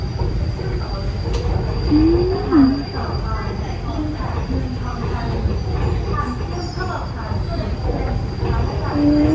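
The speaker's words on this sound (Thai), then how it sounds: "รถไฟก็ออกจากสถานีเมืองทองธานีแล้วนะครับผมมุ่งหน้าไปยังสถานีอิมแพคเมือง" An elevated monorail train departs Mueang Thong Thani station, rolling along with a continuous low rumble and wheel noise, occasional metallic squeals rising above it, steady and moderately loud throughout.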